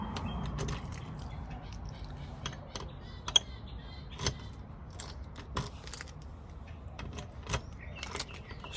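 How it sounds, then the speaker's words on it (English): A bunch of keys jangles and clicks as several are tried one after another in a door lock of a small casita, with scattered metallic scrapes and taps close by over a quiet background. "Let's see if we can get in here with one of these keys."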